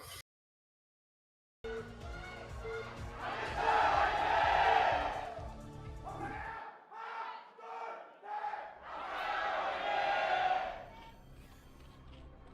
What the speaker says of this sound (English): The sound of the crowd right now is something else.